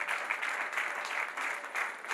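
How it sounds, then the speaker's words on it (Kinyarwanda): A church congregation at a wedding service claps together in a dense, steady round of applause that swells slightly in waves, loud and close, with no talk. "Komere Imana amashyi ubwabo."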